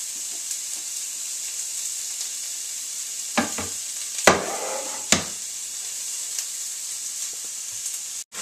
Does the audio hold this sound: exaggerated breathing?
no